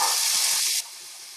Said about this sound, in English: So we've got those onions and garlic sauteed up.